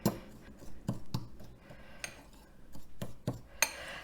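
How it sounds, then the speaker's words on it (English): A spoon scrapes and clinks against a bowl while a seasoning mixture is mixed, giving sharp irregular taps and rubs, close and fairly quiet with no talking. "So we're giving that a really good mix around."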